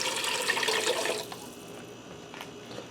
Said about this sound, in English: And I'm going to add in 4 cups of chicken broth.